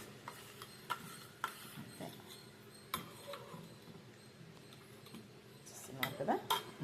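Biryani being mixed with curd in a pot, a spoon scraping and clinking against the metal in irregular taps, with one louder cluster of clinks near the end, close by and fairly quiet.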